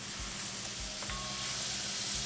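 Onions sizzle softly in a kadai with a steady, faint frying hiss, broken now and then by a few light stirring knocks.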